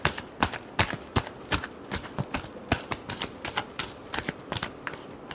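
Tarot cards being shuffled in a final round, a run of crisp irregular riffling snaps and taps close to the listener, with no talking over them.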